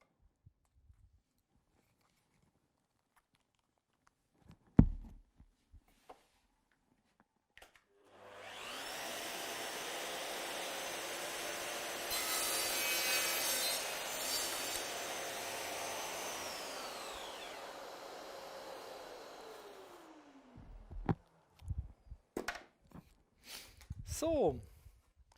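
A Festool CS 70 saw with a red-coded blade cuts a plastic-coated panel, giving a loud, steady whining roar for about twelve seconds that spools down, with a few sharp knocks and handling clatter before and after.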